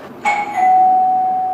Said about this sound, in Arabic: انت دق الجرس وقول بسم الله